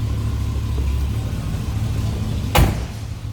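A 1961 Chevrolet Bel Air two-door with a 348 V8 runs steadily up close, its low, even rumble broken once near the end by a single sharp thump.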